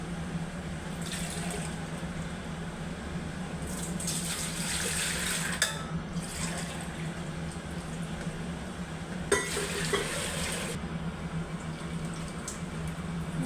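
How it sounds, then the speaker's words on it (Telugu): Water pours steadily into a pot of soaked rice for chicken biryani for several seconds, with a couple of metallic clinks of cookware close by. "అయితే వాటర్ పోసుకున్నాం కొంచెంకి"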